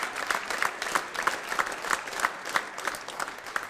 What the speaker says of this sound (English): you should give them a round of applause for helping us out